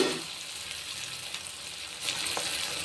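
Spices and aromatics sautéing in a pan for a Tamil dry mango tamarind curry, giving a steady close sizzle with a brief burst of louder frying toward the end, no voices.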